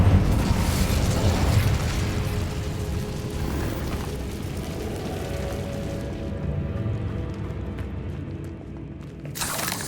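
Incendio fire spell from Hogwarts Legacy erupting in an abandoned underground passage: a dense, roaring whoosh of flame with crackling texture fills the clip, slowly thinning out before a brief burst near the end.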